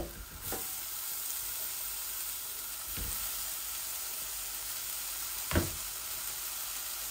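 Fish frying in a pan as sorrel leaves go in, with a steady sizzle and hiss throughout and a few brief louder bursts of spattering.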